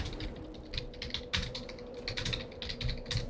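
Keys clatter on a computer keyboard during a World of Warcraft Classic session: steady, rapid, close typing with irregular bursts of clicks over a quiet game background hum.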